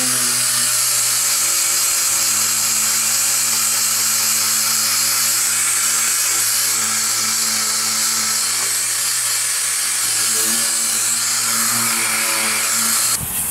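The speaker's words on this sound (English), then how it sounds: "Now we're going to take a DA with some 80 grit on it to the floor pan here." A DA sander with 80 grit works the floor pan of a 1973-1979 Ford F-150/F-250/F-350 truck, giving a loud, steady, continuous high whine and grinding hum close by that runs without a break.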